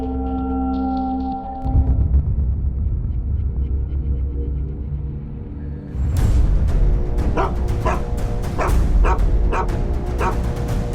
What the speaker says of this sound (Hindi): कुत्ते का इस तरह एक ही जगह में बार बार भौंकना